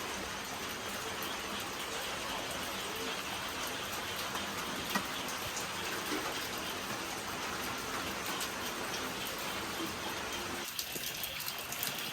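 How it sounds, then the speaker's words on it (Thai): Steady rain falls outdoors at a family home in Laos, a continuous hiss of drops on surfaces that holds evenly throughout, with a faint low engine-like rumble beneath and no talking. "ส่วนนี้ฝนมันตก"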